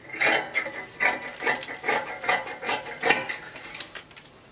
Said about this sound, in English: And we cut out the lining also